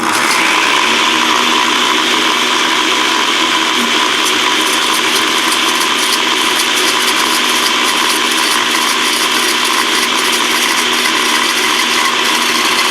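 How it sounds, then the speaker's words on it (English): A steady, loud mechanical whirring runs continuously with a faint rattling texture, like a blender motor spinning without pause. "Dump your butter in slowly while the blender is running."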